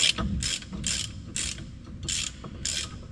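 A socket wrench ratchets in short, regular bursts, about six clicking strokes in three seconds, while working a stuck part loose on a lowered GMC truck. The clicking is close, clear and steady, with no talking.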